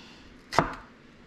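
A single soft knife chop through shallots on a cutting board, one quick close thunk in an otherwise quiet kitchen.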